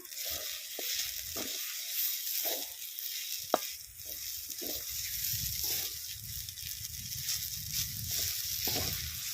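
Spiced potato filling is stirred in a pan, soft scraping strokes and light sizzling coming in irregular bursts, close and fairly quiet with one sharp click of the utensil.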